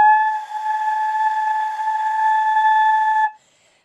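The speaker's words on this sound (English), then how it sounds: "what happens with a lot of players is when they do that sound, they get kind of like an airy sensation to it." A flute blown with a lip opening that is too open gives one long, airy, breathy tone, held steadily for about three seconds before it cuts off. It is close and played alone.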